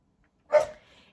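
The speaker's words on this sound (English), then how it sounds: "excuse my dog barking in the background" A single short bark from a pet dog in the background of a quiet room, one sharp burst followed by a brief fading tail.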